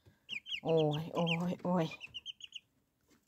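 Chicks cluck and peep around a nipple drinker in a village setting, with several drawn-out calls and then quick high chirps. A person gives a brief exclamation.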